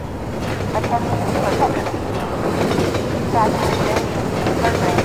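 Train in Half-Life 2 rumbling along steadily, a dense low roar with faint clanking and rattling throughout, loud and continuous.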